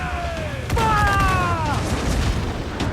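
Ship cannon fire during a naval battle in the video game Assassin's Creed Black Flag: one heavy boom with a rolling low rumble, under shouted voices.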